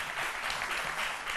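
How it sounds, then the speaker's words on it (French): Studio audience applause on a midday TV magazine show, a brief, steady wash of many hands clapping at moderate loudness, heard alone. "applaudit encore une fois pour encourager Zongo et Jean-Michel"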